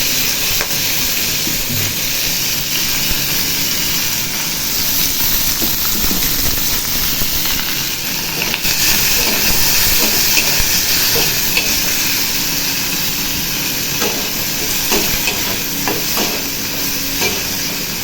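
Prawns fry in hot oil in a wok with panch phoron and dry chillies, giving a loud, continuous sizzle and hiss with scraping stirs throughout, close up.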